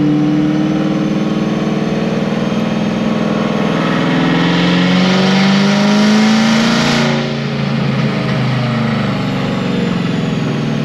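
An automatic car's engine runs hard and steadily under heavy load, with a rising and falling rev tone and a dense, close, loud roar throughout and no talking. The engine had previously been blown up.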